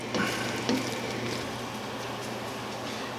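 Homemade holiday stuffing mixture being stirred, with a steady wet squishing and faint sizzle-like scraping running continuously throughout, a couple of slightly louder strokes near the start, fairly close and with no one talking.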